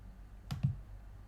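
Two quick, faint mouse clicks on a software button, a fraction of a second apart, in an otherwise quiet room.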